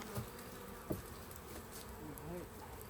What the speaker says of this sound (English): Lots of bees in the roof there